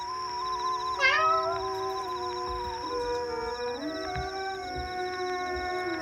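A cat gives a long, wavering, mournful meow, sliding in pitch, as a sound effect for a storybook tale, heard over a steady musical hum.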